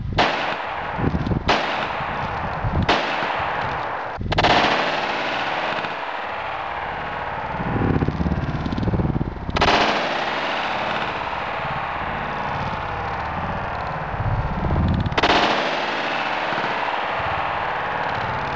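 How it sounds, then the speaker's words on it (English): Gunshots from a short-barrel .357 Magnum revolver with a 2-inch barrel, fired during a water expansion test. Six loud, sharp blasts come at irregular intervals, each trailing off in a long echoing decay, close and dominant. "Test gun for the short barrel 357 Magnum is the TAR 650."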